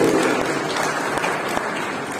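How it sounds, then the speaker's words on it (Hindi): An audience claps at a ceremony at a government degree college attended by the Lieutenant Governor, steady and moderately loud throughout the short stretch with no voices. "तालियों से"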